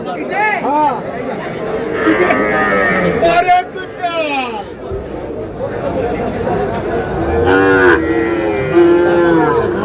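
Sahiwal bulls and cattle at a crowded livestock market, with repeated moos rising over steady chatter of a busy crowd and people talking nearby throughout.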